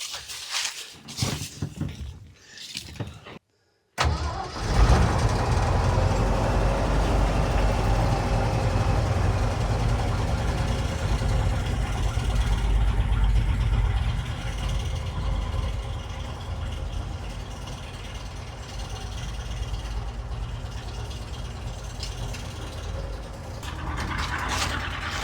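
A 1977 Ford F600 truck engine runs rough on only three cylinders, a continuous low, uneven idle after a few sputtering starts and a short dropout, with no talk.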